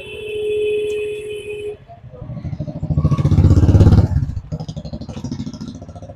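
Exhaust of a Jawa Perak 350 or Royal Enfield Hunter 350 motorcycle, a loud close rhythmic thump that rises in a short rev, dips, then settles into a pulsing idle.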